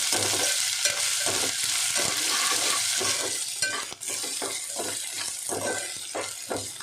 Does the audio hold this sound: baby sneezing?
no